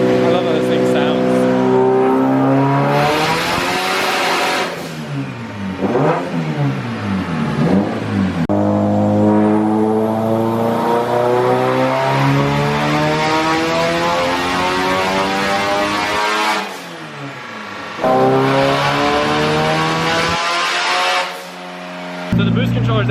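Turbocharged SR20DET car engine running around 25 PSI of boost revs hard in repeated rising sweeps with sudden drops between pulls, loud and up close, with voices at times underneath.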